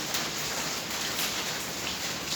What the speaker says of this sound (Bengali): এই যে বাড়িতে বৃষ্টি বাইরের টালিগুলো লাগানো হয়েছে পানি পড়তেছে